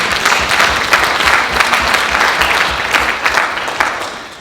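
A church congregation applauds to acclaim God, steady dense clapping from many hands filling the room at a loud, even level throughout.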